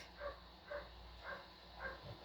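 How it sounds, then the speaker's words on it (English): Several dogs bark somewhere outside a house in the late afternoon, four faint, distant bursts spaced evenly apart over steady background hum. "I wonder what the dogs are barking at."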